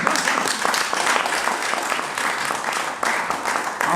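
Sustained audience applause at a press conference in Brussels City Hall, a dense, even wash of clapping from a crowd lasting throughout, with a brief dip near the end before resuming.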